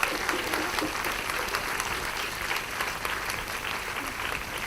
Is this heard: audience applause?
yes